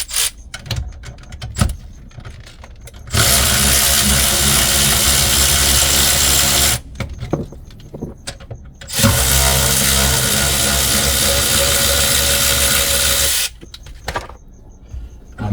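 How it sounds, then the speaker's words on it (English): Power tool, likely an impact driver, running in long loud bursts as it removes bolts from a second- or third-row seat in a 2012–2025 Dodge Durango, with quieter gaps between bursts. "And now you can get your bolts out."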